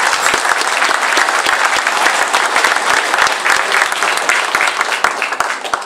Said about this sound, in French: Eh bien on peut les applaudir tout de suite,